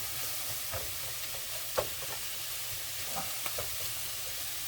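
Portobello mushrooms frying in a pan with butter or oil, a steady soft sizzle running throughout with a few faint utensil clicks near and at moderate level, no voices.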